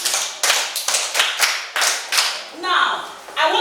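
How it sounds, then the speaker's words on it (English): A classroom group applauds a student with loud, dense bursts of clapping in uneven waves, and voices rise briefly near the end. "a round of applause for her"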